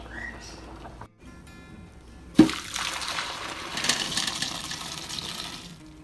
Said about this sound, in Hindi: तो अब इसे स्ट्रेन कर लेते हैं, जो पानी है वो निकाल देते हैं इसका